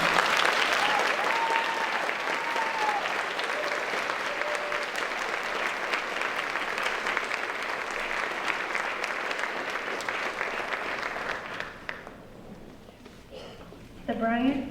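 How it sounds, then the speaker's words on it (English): Audience applause fills a school class night ceremony, steady and dense clapping from a large crowd that carries on for about twelve seconds, then fades out before a brief spoken sound at the end. "Please join me in a round of applause."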